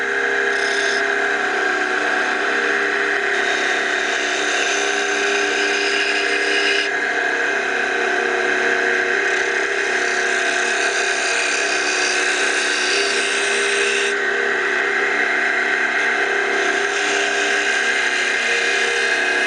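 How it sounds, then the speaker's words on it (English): A wood lathe spins while a parting tool finishes and parts off a wooden fishing lure body, giving a loud, steady, unbroken whir that barely shifts over its length. "I'm going to switch from the main cutting tool, the gouge, over to a parting tool to finish the lure body off"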